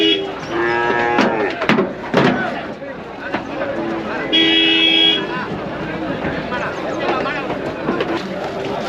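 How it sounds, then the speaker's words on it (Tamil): Cows with a calf at the Vaniyambadi cattle market moo in several drawn-out calls, set against a busy crowd with people talking nearby and a brief horn-like toot. "மாடுங்க ஒரு கண்ணுக்குட்டியோட வந்திருக்கு"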